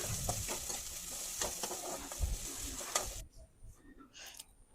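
Spices frying in coconut oil in a pan for spinach dal, a steady close sizzle with stirring scrapes that drops away sharply near the end, leaving faint clatter.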